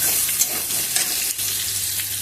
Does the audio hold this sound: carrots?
yes